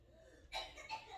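A few quick, sharp coughs from a child in a bath close by, faint and short, with a quiet background.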